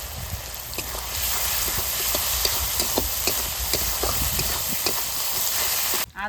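Ginger and garlic paste frying in a pan after onions, a steady broadband sizzle with scattered crackles and light stirring clicks, fairly loud and continuous until it cuts off near the end.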